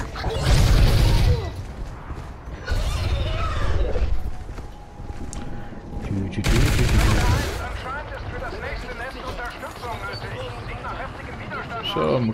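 Bursts of automatic gunfire with booms from Call of Duty: Ghosts Extinction, a co-op alien-fighting mode, come in loud clusters separated by quieter stretches, with someone talking over the action.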